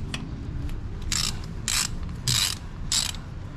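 Ratchet wrench loosening a rusted bolt near a motorcycle reservoir, four short rhythmic clicking strokes close by against a steady low background.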